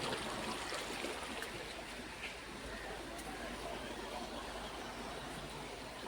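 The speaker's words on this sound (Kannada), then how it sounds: "ನೀರಿನ ಸೌಂಡ್ ನೋಡ್ರಿ ಎಷ್ಟು ಚಂದ ಕೇಳುತ್ತೆ." Kaveri river water rushes steadily at Ranganathittu bird sanctuary in the rainy season, a dense, continuous wash of flowing water that stays fairly even throughout, with faint murmuring voices in the background.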